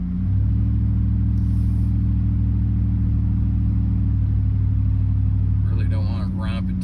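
A truck with a 5.3L V8 climbs a hill with a deep, steady engine rumble close by. A voice briefly cuts in near the end.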